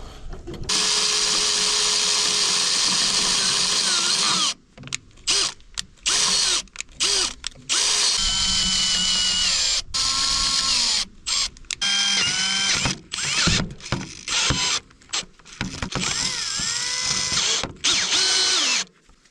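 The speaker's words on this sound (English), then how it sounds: "Well, at least the drills won't break." A power drill runs in long, loud bursts while working on the 3-point hitch of a Kirovets tractor, with brief stops between runs and some ratcheting mechanical noise, and no talking.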